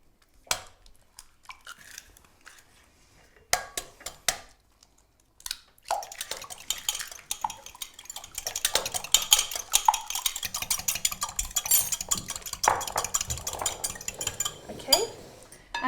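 A palette knife mixes eggs into tart dough for a Bakewell tart, giving a steady stream of close, soft scraping, tapping and wet squelching. A few isolated clicks open it before continuous mixing takes over.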